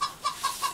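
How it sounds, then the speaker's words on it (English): A phone ringtone of a clucking chicken plays four short, evenly spaced clucks, moderately loud and alone with no talk over it. "that's my phone going off, the chicken noise"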